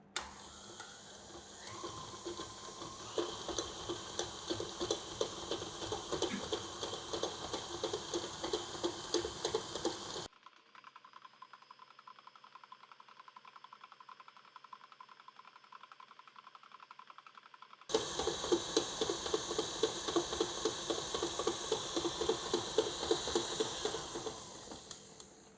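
An electric mixer beats butter and sugar into cookie dough at medium-high speed, giving off a steady whirring rattle close by. It cuts out for several seconds, leaving a quiet gap, then starts again just as busily.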